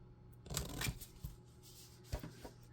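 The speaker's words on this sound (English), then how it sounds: "Let's use the big scissors," Large scissors snip through paper for a ring-bound Home Sweet Home journal, a few quick close cuts and rustles clustered near the start and again toward the end, quiet overall.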